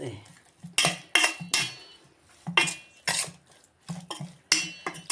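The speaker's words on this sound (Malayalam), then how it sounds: "ഇതെല്ലാം കൂടി നമുക്ക് ഇതിനൊന്ന് മിക്സ് ചെയ്തെടുക്കാം" A spoon clanks against a metal dish while squid is mixed with chicken masala, chili powder and pepper powder, giving about a dozen sharp, close scraping strokes in an irregular rhythm.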